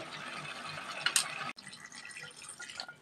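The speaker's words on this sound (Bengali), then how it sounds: "এইবার আমরা কিন্তু এর মধ্যে জল দিয়ে দেব।" Water is poured into a jackfruit curry simmering in a pan, producing a short splashing and trickling burst, followed by quieter bubbling and sizzling close by.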